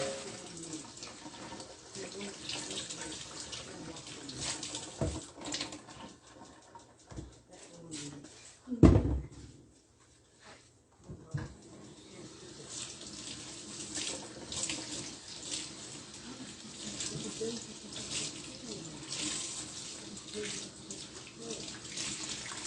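A kitchen tap runs steadily for rinsing during cooking, a soft continuous stream of water broken by a brief louder clatter midway, heard fairly faintly in a quiet room.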